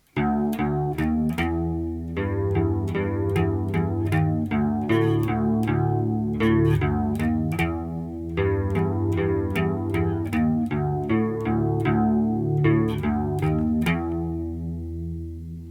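A repeating electric guitar riff, plucked notes and chords shimmering with a chorus effect, played loud and steady with no talking.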